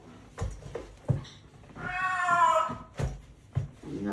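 A parrot mimics a cat, letting out a drawn-out, wavering meow in the middle of the clip, with a few short clicks and chirps around it in a quiet room.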